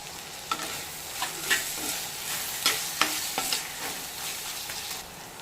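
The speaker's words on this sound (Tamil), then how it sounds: "தக்காளி நல்லா வதங்கட்டும்." Tomatoes sauté with a pinch of salt in a pan for a chicken gravy, with a steady frying sizzle and a series of close spoon scrapes and stirs.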